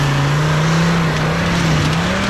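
Toyota-powered off-road buggy held at full throttle, its engine a loud, steady, continuous drone with a slight wavering pitch and no lift-off throughout.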